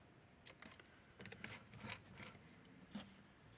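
A sewing machine stitches the casing of doll-sized shorts, giving a quiet, close mechanical whir with a few short clicking bursts over about three seconds.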